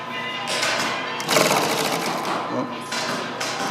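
A sewing machine stitches a welting seam in a steady mechanical whir, with its pace rising briefly partway through as a person talks over it.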